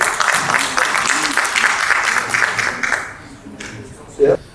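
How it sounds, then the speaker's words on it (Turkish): Audience applause at a Turkish economic summit panel in Berlin, dense steady clapping for about three seconds that then fades out, followed by a brief knock or thump near the end. "Alkışlarımızla alıyoruz."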